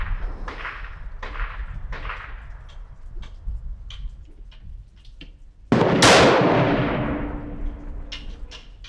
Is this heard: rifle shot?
yes